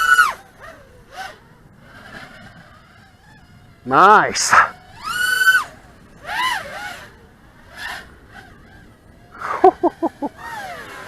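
An Eachine Wizard X220HV FPV racing drone on a larger, higher-cell battery flies with its motors whining in rising and falling pitch sweeps, sharp punch-outs and quick stuttering bursts separated by quieter gaps, with a brief spoken word.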